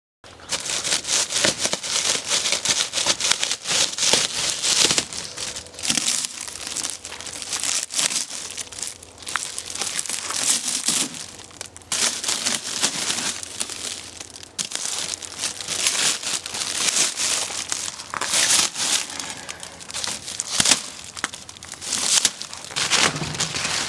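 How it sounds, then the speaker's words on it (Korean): Plastic stretch wrap is peeled off a freight-shipped Jinsung JEV-10 self-propelled vinyl mulching machine, giving continuous close crinkling, crackling and tearing that runs for over twenty seconds with no speech. "랩으로 이렇게 둘둘 말려서 왔는데 뭐 언랩핑인가요?"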